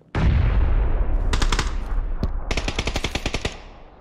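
Gunfire in the video game PUBG on PC, a loud opening burst followed by clusters of rapid automatic shots that form a fast, staccato volley. The shots are close and punchy, with no talking.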